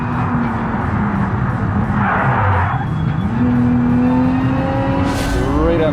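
Car tyres squeal in the BeamNG racing game as the car brakes hard and turns left, unloading the inside wheel; a sustained rising screech rides over steady engine drone, loud and close.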